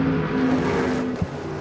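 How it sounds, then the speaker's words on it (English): A race car pulling out of pit lane at the 2022 Rolex 24 At Daytona, a steady engine tone holding for a second before a brief gear-change blip, mid-distance and moderately loud over the track's background. "That was the sound of Eric Lux going back out on the track"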